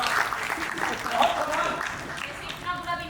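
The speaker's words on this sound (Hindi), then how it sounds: "तालियां बजाएं यार।" Theatre audience applause at ACP Karachi, a steady broadband wash of clapping that runs the full length at moderate level, mixed with voices.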